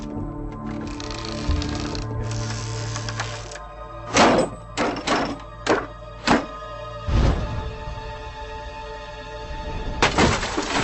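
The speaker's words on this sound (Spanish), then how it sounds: "los expertos modifican el ángulo de tiro e incrementan la tensión lanzando la munición desde más" An ancient ballista in a field test, its tension raised and firing angle adjusted, thuds and cracks in a run of sharp wooden impacts as the projectile launches and strikes its target at about 100 metres.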